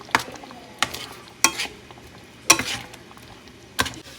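Mixed vegetables and spinach with soybean cook in a pan with a low frying hiss, broken by a few sharp, evenly spaced stirring clacks of a utensil against the pan.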